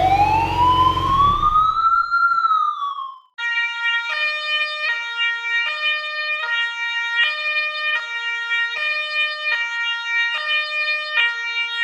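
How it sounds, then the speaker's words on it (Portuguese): An ambulance siren in an origami stop-motion guessing game: a rising and falling wail, then a steady two-tone alternating siren pattern, loud and close with no talk. "Ambulância."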